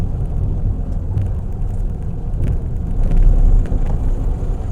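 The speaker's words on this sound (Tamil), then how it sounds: "தேர்டில் தாங்க இறங்குறான் பையன்." A car engine rumbles low and steady in third gear while descending a slope, with light wind buffeting and the tone swelling slightly toward the end.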